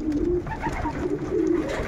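Yearling pigeons in a loft coo repeatedly in soft, low, rolling calls over a constant dense background hum of the loft.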